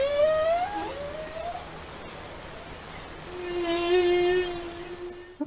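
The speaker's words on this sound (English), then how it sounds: "now I actually want to hear with you a bit of a song of a humpback whale" Humpback whale song, long tonal moans and whistling cries that rise and slide in pitch, with a hissing ocean background, no talk.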